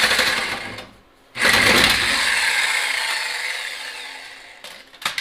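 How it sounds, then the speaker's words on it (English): Reciprocating saw hacking at a car muffler on a turbocharged Chevrolet Cobalt SS being stripped, a loud, harsh buzzing cut that pauses briefly near the start, then runs steadily and slowly fades before a few final bursts. "Sawzall out and see if we can hack this muffler off"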